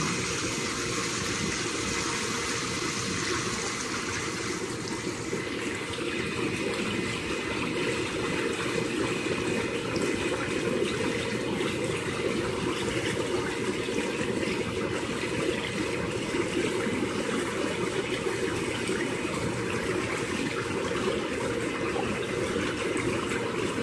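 Intex PureSpa 6-person inflatable hot tub with its bubble massage jets running, a loud, steady roar of churning, bubbling water and blower hum that continues unchanged throughout.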